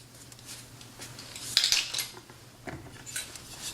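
Chicken pieces are stirred in oil in a deep frying pan over medium heat, giving close, intermittent scraping and clinking of utensil against pan over a low steady hum.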